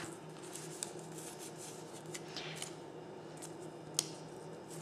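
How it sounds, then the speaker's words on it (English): Scissors trim a quarter-inch strip off the inner edge of paper for a pumpkin pinwheel candy favor, producing faint, scattered snipping and rustling against low background hum, with one sharper click near the end. "I took my scissors and went along on the inside, and I just trimmed like a quarter of an inch off"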